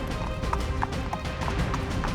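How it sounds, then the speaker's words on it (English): Horse hooves clip-clop in a quick, steady rhythm as a prince rides on, running continuously over a dense background. "The prince rode on his horse for a very long time"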